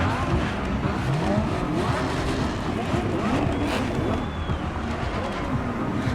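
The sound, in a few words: car engine driving in The Crew Motorfest video game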